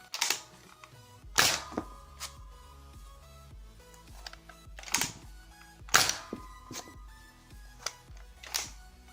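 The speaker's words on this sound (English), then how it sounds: "Okay, off to the firing. A single Night Finder." Pre-N-Strike Nerf Night Finder dart blaster firing, with several sharp close snaps and clicks of the priming and trigger mechanism spaced a second or two apart, no talk.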